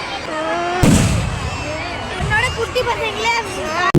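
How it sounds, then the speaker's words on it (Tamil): Sharp, loud firework bang bursts out at the opening of an annual day function, followed by a few fainter pops, all under a busy crowd of chattering voices and nearby talk. "வானவேடிக்கையிலேருந்து ஸ்டார்ட் பண்ண ஆரம்பிச்சிட்டாங்க."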